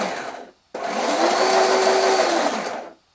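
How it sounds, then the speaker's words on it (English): A gearbox motor on a power-arm exosuit build whirs steadily for about two seconds after a short stop, a fairly loud mechanical drone with light rattling from loose spacers on the shafts, close by. "There's some spacers hidden back in there, which if I run this, you can see rattle around, and those are slightly loose on the shafts"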